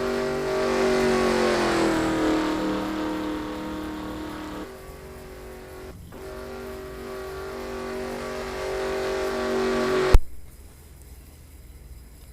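A rally car in a Sega Rally replay drives with a continuous buzzing engine note that rises and sags as it slides, then cuts off abruptly with a sharp thump, leaving only a quiet hum.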